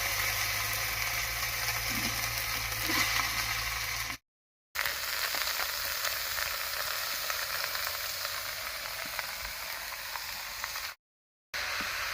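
Bottle gourd cooks in a pan with green chillies and spice paste, giving a soft, steady sizzle with faint stirring, interrupted by two short silent gaps.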